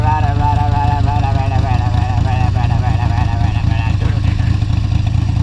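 A Harley-Davidson motorcycle engine runs steadily in second gear, a loud, close, choppy rumble with a continuous low throb and no break.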